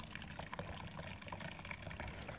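Water pours steadily down a small cement garden waterfall fed by an aquarium pump, a continuous close splashing and trickling wash with no break and no voices.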